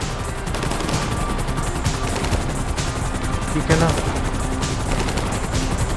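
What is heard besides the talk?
gunfire in GTA V video game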